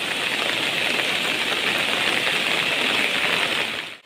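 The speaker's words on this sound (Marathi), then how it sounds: "जोरदार पावसात बघा यश जातात आहे" A dense, constant roar of heavy monsoon rain in Sindhudurg, Konkan, pours down without a break, loud and enveloping, then cuts off abruptly at the end.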